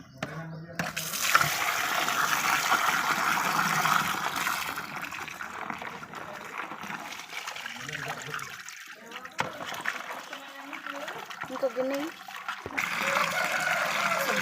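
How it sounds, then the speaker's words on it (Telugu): Water poured and splashed over korrameenu fish being washed by hand, a steady running trickle close by with a voice speaking over it. "ఇప్పుడు వాటర్ పోసుకొని కడుక్కోవాలి"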